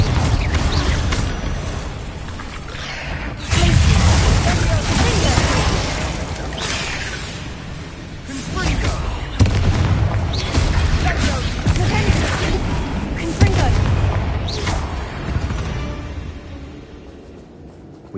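The Confringo spell fires in a Hogwarts video game, setting off bursts and booming explosive crashes with whooshes. The blasts are loud and layered over ongoing game noise, swelling and fading across the stretch.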